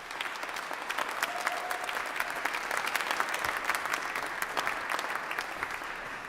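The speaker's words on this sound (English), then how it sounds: "Let's give the alumni choir a round of applause." An audience applauds an alumni choir at a Founders Day convocation, with sustained, moderately loud clapping that continues steadily from start to finish.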